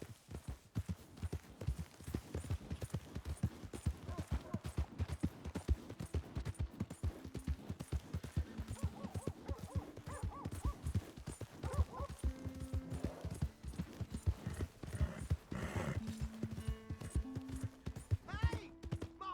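Horse hooves clip-clopping in the video game Red Dead Redemption 2, a steady rhythmic stream of hoofbeats close by, moderately quiet, with a short voice and game music tones rising in the background.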